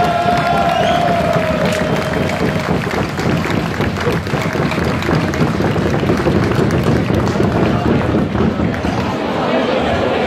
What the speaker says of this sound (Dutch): Een applaus voor Theo.